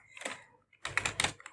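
Rapid keystrokes on a computer keyboard while HTML code is entered, two bursts of close, crisp clicking separated by a brief pause.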